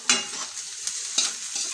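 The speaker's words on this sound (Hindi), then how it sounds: "अब इसे भी मैं हल्की सी फ्राई कर लेती हूँ" Carrots and capsicum stir-frying in a hot pan on high flame, a steady loud sizzle broken by a few sharp scraping stirs of the spatula.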